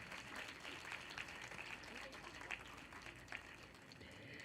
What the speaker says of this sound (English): Warmer applause, please.